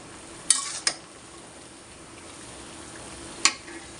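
Chicken with spices being stirred and fried in a pan for a country chicken dish, a soft, low sizzle broken by three sharp metallic clinks of the spoon against the pan.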